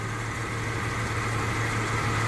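Jeep Cherokee XJ engine idling steadily with a continuous low hum and broadband mechanical noise, close and loud, with no talking.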